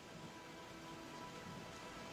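Light rain falls as a faint, even hiss that runs steadily throughout with no distinct drops standing out.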